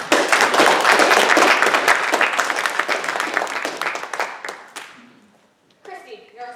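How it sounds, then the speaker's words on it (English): An audience gives a loud, dense round of applause for the troops, many hands clapping steadily for several seconds before it thins out and dies away, after which a voice begins speaking. "Can you join me in a round of applause?"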